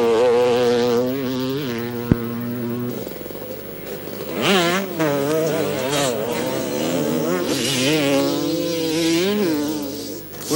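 Motorcycle on a practice track at a 1988 club riding course, engine note rising and falling with strong harmonics as it revs and passes, a sharp click near the start, close and loud throughout with no talk.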